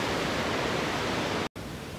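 Cummins Falls waterfall pours in a constant, loud, hissing roar that fills the whole clip, broken only by a brief dropout near the end.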